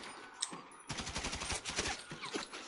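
Sniper rifle fire in GTA V Online, a sharp crack followed by a burst of rapid, echoing gunshot reports at moderate distance, fairly quiet overall.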